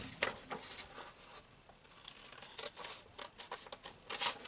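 Paper being cut with scissors to remove a section for a layout, giving a run of close, quiet snipping and rustling strokes in irregular bursts with no talking.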